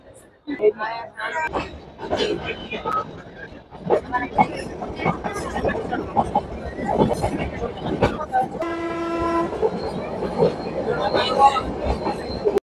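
The Ooty mountain toy train climbs near Lovedale station, near the highest point of the line, in rain, its rumble and clatter mixed with passenger voices, and a steady horn blast sounds briefly near the middle; talk continues over the running train.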